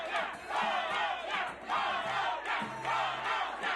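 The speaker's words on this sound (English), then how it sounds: "Throughout the night, we saw many fans cheering for their country" Colombian football fans at a watch party for a final, a large crowd chanting and cheering in rhythmic surges, loud and continuous with repeated bursts.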